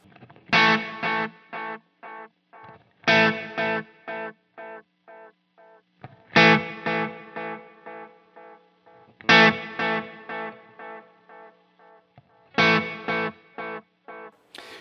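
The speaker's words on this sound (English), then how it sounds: "so we can hear clearly on parallel, there's no reverb on the repeats" Electric guitar through a Line 6 Helix with delay and reverb in parallel: repeated strummed chords, each followed by a string of dry, fading echoes, rhythmic and clear with no voice.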